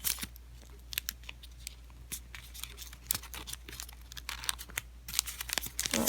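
Paper being folded into an origami Venus flytrap, with soft crinkling and crisp crackles in irregular bursts, growing busier toward the end, close and fairly quiet with no talk.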